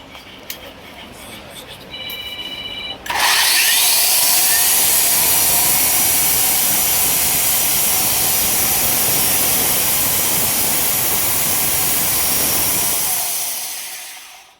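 A roof and wall cutting machine starting up after a short stretch of quieter noise, then roaring loud and steady with a high whining hiss for about ten seconds before winding down; a voice speaks near the start.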